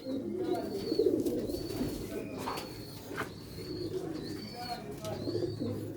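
Pigeons cooing on a rooftop loft, repeated soft coos and a few chirps over steady low background noise, with faint voices now and then.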